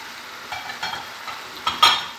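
Chicken with spices is stirred in a frying pan, giving faint sizzling with a few soft scraping strokes and one sharper clatter near the end.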